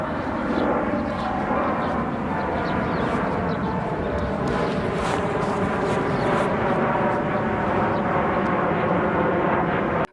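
An airplane roars on takeoff, a loud, dense, steady engine rumble that fills the whole stretch without pause.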